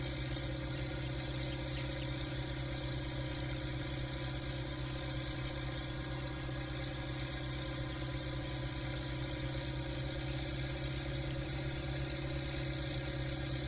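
A modified HMT 3522 tractor engine runs under load pulling a trolley, a loud, constant, close mechanical drone with steady harmonic hum and no talking.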